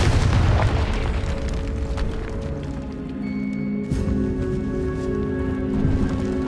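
A Confringo fire-spell blast in Hogwarts Legacy: a loud, booming explosion opens and rumbles on, layered over continuous game music and effects.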